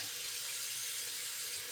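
Water runs steadily from a tap into a pot for tilapia sinigang, a continuous bright hissing pour that stays even and close for under two seconds.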